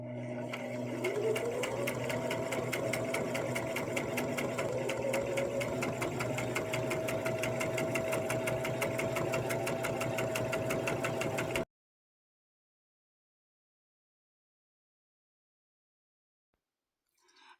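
A sewing machine stitches a Halloween pillowcase in a steady, close, continuous whir with a fast mechanical rhythm for about eleven seconds, then stops and leaves near silence.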